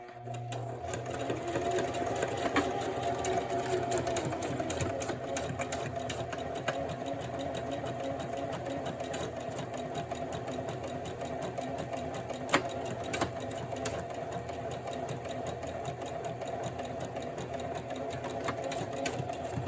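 A sewing machine runs steadily in reverse, stitching backwards through a scrappy junk journal notebook, giving a continuous mechanical whir with a fast rhythmic clatter throughout, close and fairly loud with no talking.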